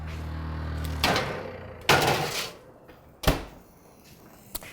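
A kitchen oven door is opened and shut with a few solid thumps and clanks, separated by brief pauses, close and fairly loud after a low humming start.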